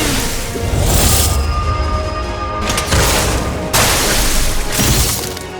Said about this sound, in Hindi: भैया रामा, मोटर बम